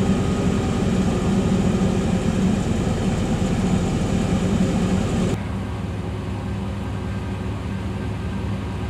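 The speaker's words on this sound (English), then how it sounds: "We're just going to let it idle here for a sec." A GM truck engine idles steadily and close by, a loud, even low rumble that drops abruptly to a quieter, smoother drone partway through.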